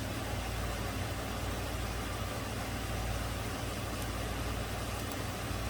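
A 2008 Toyota RAV4 engine idles after a misfire, a low, even, quiet rumble under steady hiss with no talk.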